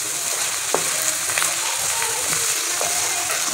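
A kilo of chicken with seven or eight green chillies fries lightly over a medium flame, giving a steady, even sizzle with a few faint clinks of stirring and no talk.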